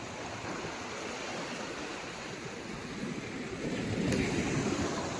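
Water rushing steadily nearby, a broad continuous wash that swells a little louder toward the end, with no talking.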